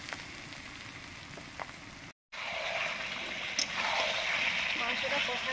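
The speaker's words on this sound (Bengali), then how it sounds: "পেঁয়াজটা ভাজছি।" Onion fries in a pan for a chicken curry, a steady broadband sizzle that drops out briefly partway through, then returns louder and fuller with scattered crackles.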